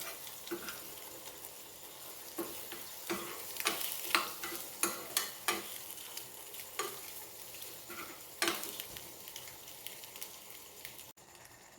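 Onions frying in a pan on a low flame for egg roast, a soft steady sizzle broken by repeated spatula scrapes and stirring clatters at an uneven rhythm, close but fairly quiet, no speech.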